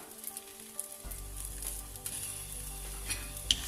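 Eggs hit a hot pan for vegetable rice and start sizzling abruptly after a brief quiet moment, a loud continuous close fry with small pops and scrapes.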